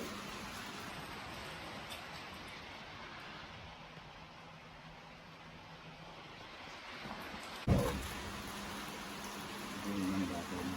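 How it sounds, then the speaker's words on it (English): Steady heavy rain hiss fills the scene, a broad constant wash with a brief thump partway through and a slight swell near the end. "It's pouring down rain"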